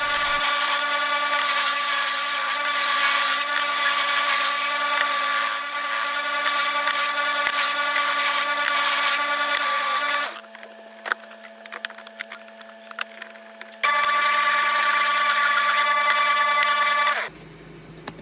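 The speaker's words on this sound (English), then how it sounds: "I brought the board over to my rigid oscillating belt sander and started sanding the handle as well as the curve" A Ridgid oscillating belt sander smooths the handle and curves of a wooden charcuterie board, a loud steady grinding hum broken by a short quieter pause before resuming, then stopping near the end.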